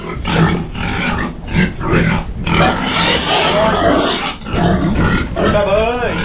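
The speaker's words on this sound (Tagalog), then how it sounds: "Ang baboy." Pig grunts on a farm, loud and close, repeated in irregular bursts and mixed with people talking nearby.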